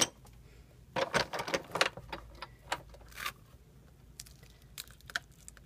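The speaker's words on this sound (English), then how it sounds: "I'm going to go ahead and run it through back and forth just to make sure I get a nice cut" A die cutting machine rolls cardstock backed with a dryer sheet back and forth through a butterfly die, giving uneven bursts of crunching and grinding with short pauses between passes.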